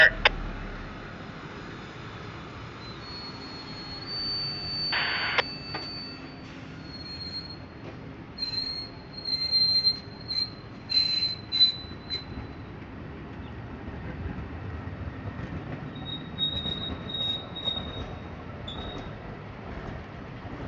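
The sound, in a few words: Amtrak P040 northbound Floridian passenger train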